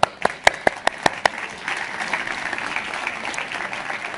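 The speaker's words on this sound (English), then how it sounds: "Let's give a round of applause." A few sharp, separate claps open, then broader audience applause builds and holds at a moderate level through the rest of a COP26 session on water and net zero.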